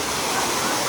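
Jatashankar waterfall on Girnar near Junagadh, a steady broadband roar of falling water that fills the whole second at high, even loudness.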